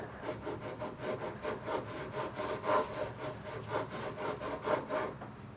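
Vinegar and food coloring stirred in a cup for a homemade volcano, giving a steady run of rhythmic scraping strokes, close and fairly soft, with no talking.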